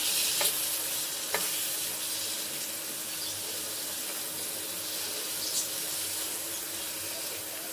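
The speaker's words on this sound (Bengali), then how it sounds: "মশলাগুলো খুব ভালো করে আলুর সাথে কষিয়ে নিতে হবে" Potatoes with soybean chunks fry in a pan with cumin, Kashmiri chili and coriander powder, giving a steady soft sizzle with a few sharp scraping stirs of a spoon.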